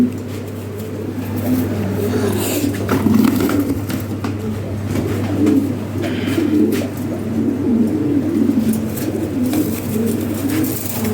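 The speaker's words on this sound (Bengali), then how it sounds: "এই হলো আপনার কবুতর" Pigeons being handed over for delivery coo in repeated low, throaty burbles close by, with a steady hum underneath and occasional rustling and handling noises.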